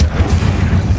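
Incendio fire spell in Hogwarts Legacy, a short burst of loud booming low rumble with a whooshing flare, steady and heavy for about a second.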